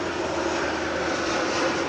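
A passenger airplane engine roars steadily at LAX airport, a loud, continuous broadband drone with no voices.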